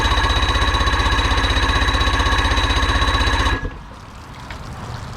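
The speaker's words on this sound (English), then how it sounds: "We'll try to just start it and see if it'll start like it is." A Johnson 48 HP outboard motor cranks with a fast, even, chugging rhythm, loud and close, for about three and a half seconds, then the starter stops and only quiet background noise remains.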